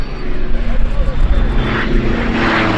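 A small propeller plane drones steadily and loudly, a continuous engine rumble with a broad airy wash that holds for the whole stretch without fading.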